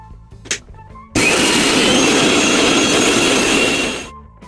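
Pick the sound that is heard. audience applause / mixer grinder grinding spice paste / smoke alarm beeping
mixer grinder grinding spice paste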